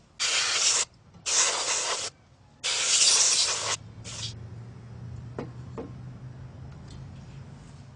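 Compressed air blows dust out of a computer's front cooling fans in three strong hissing bursts followed by a brief fourth, then quiet clicking and light handling noise.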